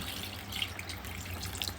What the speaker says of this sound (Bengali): সিদ্ধর জন্য একদম পানি দিয়ে দেব